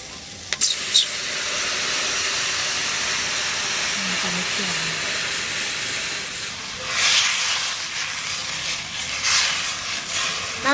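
Water poured into a hot pan of oil with fried onions and green chillies sends up a broad, steady hiss of steam that swells briefly a few times and stays unbroken throughout.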